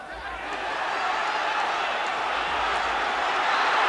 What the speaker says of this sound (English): Appreciative crowd here.